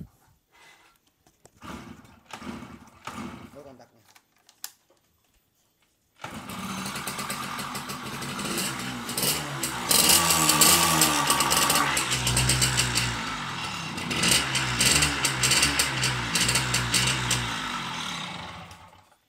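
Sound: old motorcycle engine starting and running

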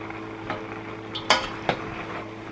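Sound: stirring Chinese-style rice in a pan

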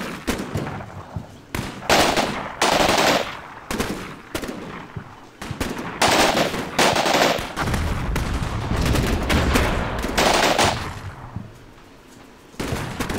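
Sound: rifle grenades exploding in the video game Combat Mission Black Sea

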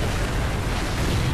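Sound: explosion in the video game Resident Evil 4 VR

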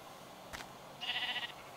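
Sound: sheep bleating in the Minecraft video game

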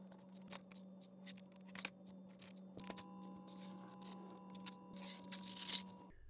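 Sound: cutting out apron fabric

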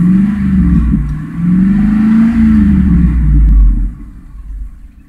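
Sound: 1998 Ford Expedition engine revving, Flowmaster exhaust

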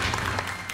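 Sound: studio audience applause on quiz show

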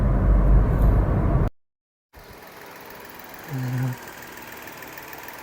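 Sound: car engine idling

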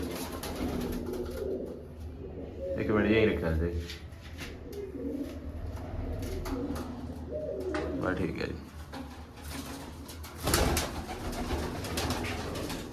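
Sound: pigeons cooing in their coop

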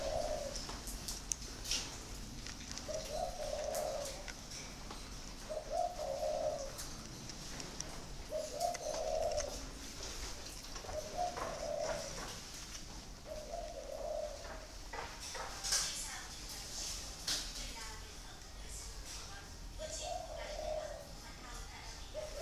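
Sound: spotted doves cooing

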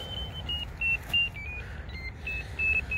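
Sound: ferret locator double bleeper beeping

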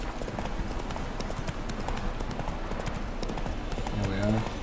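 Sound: horse galloping in video game The Witcher 3

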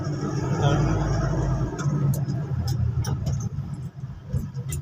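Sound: traffic on the Santa Rosa Bridge

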